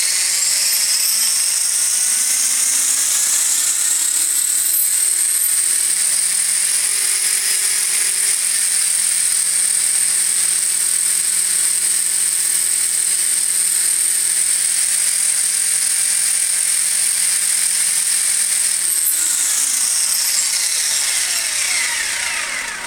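An iKON flybarless RC helicopter spools up, its whine rising steadily in pitch and then holding at a loud, even tone before winding back down at the end, with no talk.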